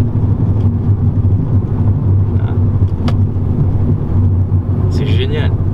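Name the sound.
Renault Megane 4 RS car launch control acceleration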